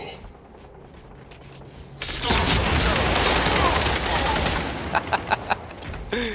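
SMG fire in Warhammer 40k Space Marine 2, a loud sustained burst that opens after a quieter stretch and runs for several seconds, ending in a few distinct separate shots.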